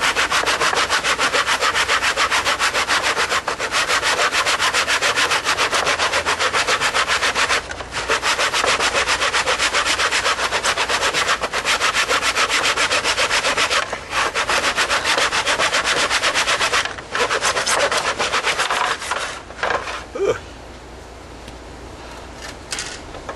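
A hand saw cuts exterior wood trim in a plastic miter box, with steady, loud, rapid rasping strokes running continuously before slowing near the end of the cut.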